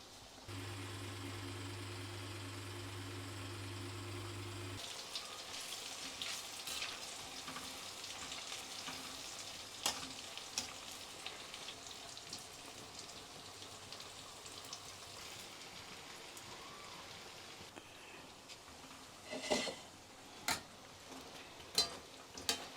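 Hot oil crackles quietly while traditional sweets fry for the Teej festival, starting after a low electric hum in the first seconds and then turning into a steady, faint sizzle with a few sharp pops and clatters near the end, with no talking.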